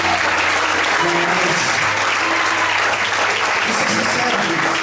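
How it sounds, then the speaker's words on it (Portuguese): A church congregation claps loudly and continuously during a sermon, with low murmuring voices and faint musical tones running beneath the applause for nearly five seconds. "Será que você pode aplaudir o Senhor por isso?"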